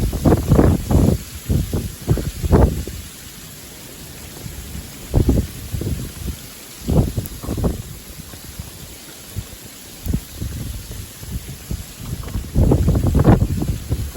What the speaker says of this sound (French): Ça latte, hein, les grêlons.